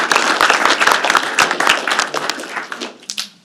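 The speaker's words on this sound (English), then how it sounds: "I want to give you a round of applause" An audience at a board meeting gives a round of applause, with brisk, fairly close clapping that thins out and fades into scattered claps.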